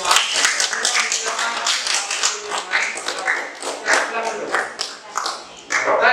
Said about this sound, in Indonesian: berikan tepuk tangan yang meriah untuk kalian semua